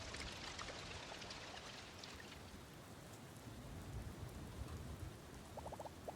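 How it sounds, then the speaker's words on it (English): Steady acid rain falls in the post-apocalyptic farm sim Doloc Town, a constant, faint hiss of drops with a few soft, brief ticks near the end, and no voices. "Wait, why is the rain green?"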